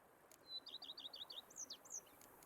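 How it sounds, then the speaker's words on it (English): Songbirds chirp in a game world from The Witcher 3: Blood and Wine, a quick run of high, repeated tweets followed by a few longer sliding calls, clear and moderately close over a faint ambient background with no talking. "Bees buzzing, birds chirping."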